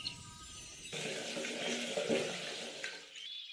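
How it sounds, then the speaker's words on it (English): Bucket of water poured into a steam engine's water tank in a railway video game: a continuous rushing, splashing pour starts abruptly, runs steadily for a few seconds and then cuts off, with no speech. "pull it up, and pour it into Thomas's water tank as quickly as she could"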